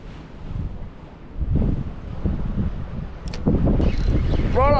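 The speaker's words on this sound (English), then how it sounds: "first cast in this absolute windy, stormy mess" Strong gusting wind roars across the microphone during stormy weather while fishing, buffeting steadily and rising louder toward the end.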